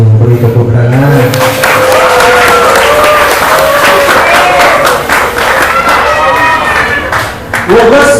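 Students at an Islamic boarding school madrasah exam clap their hands together in a loud, close burst, with cheering and chanting voices layered over the clapping throughout.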